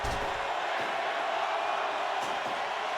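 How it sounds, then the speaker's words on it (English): A wrestling crowd at an SOW Ignition event keeps up a continuous distant roar of cheering during a match. The noise stays steady and moderately loud, with a few faint thuds and no clear talking on top. "the crowd is loving this match"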